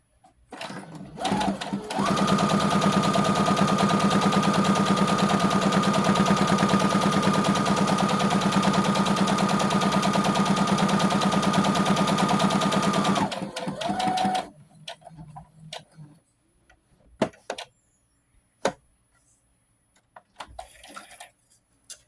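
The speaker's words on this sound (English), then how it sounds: "we are going to continue to sew a whole line down this side as well" A sewing machine runs a steady line of stitching down the side of tote bag fabric, a fast even whir lasting about eleven seconds, followed by scattered clicks and handling noises.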